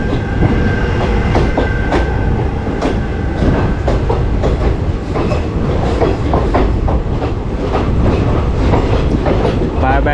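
The Vananchal Express pulls out of Rampurhat station, its wheels clattering over rail joints in a steady clickety-clack beneath a continuous loud rumble, heard close up for the whole stretch.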